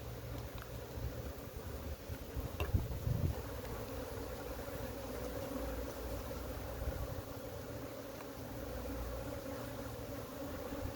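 A wild colony of Africanized bees buzzes steadily in a low, even hum, with a brief louder swell early on and a constant background hiss.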